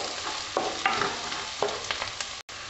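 Onions half-frying in a pan for paneer jalfrezi, a steady sizzle broken by a few soft stirring scrapes and clacks, close and moderately loud, with no talking.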